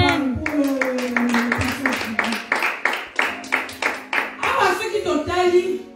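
A church congregation claps in steady rhythmic unison during a sermon, loud and close, with voices and singing-like tones rising over the clapping.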